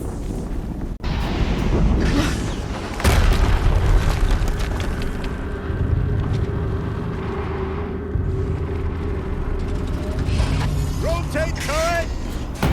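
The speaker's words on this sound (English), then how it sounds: "Another explosion." A deep, rumbling explosion booms in a Horizon Zero Dawn battle, rolling out in a sustained roar of low blasts and mechanical clatter, with a voice briefly speaking over it.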